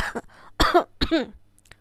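A person coughs several times in quick succession, close and loud, with a brief throat-clearing quality and short pauses between bursts.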